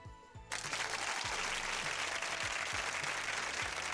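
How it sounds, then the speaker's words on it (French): A crowd applauds steadily and loudly at a Christmas gift event, sustained clapping filling the whole stretch after a brief quieter moment at the start, with low thumps underneath. "On applaudit."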